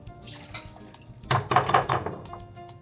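Egg yolks, vanilla and milk for Brazilian pudim are stirred together in a bowl, giving a close run of liquid sloshing with a few clinking, knocking contacts against the bowl that build in the middle and then fade.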